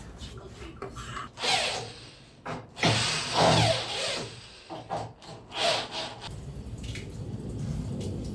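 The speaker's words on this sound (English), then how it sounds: "Finally, I'm going to cut a bevel" A hand saw cuts a bevel on a wooden bulkhead for a small wooden sailboat, irregular rasping strokes in uneven bursts with short pauses, close and fairly loud.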